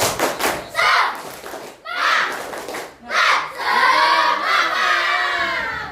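Classroom students perform a rhythmic spirit clapping chant in a school lesson, loud voices shouting in unison in repeated bursts with claps and thuds between phrases.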